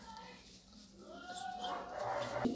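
Griffon puppies make a short whimpering yip followed by a rising whine, heard close and fairly soft with some voice in the background.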